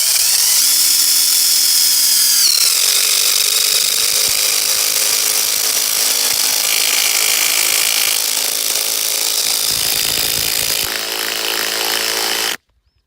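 A Ryobi One+ 18 volt impact driver drives into old hardwood firewood, giving a loud, continuous high-pitched whine and rattling hammer that runs for about twelve seconds before cutting off.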